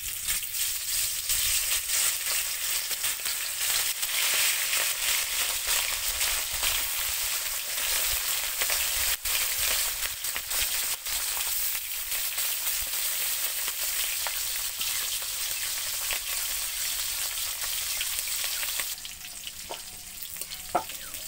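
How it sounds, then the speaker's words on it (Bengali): Fish fry in hot oil with a loud, dense, continuous sizzle that stays steady throughout, easing off slightly near the end, with no voices. "এখন আমি মাছগুলো দিয়ে দেব"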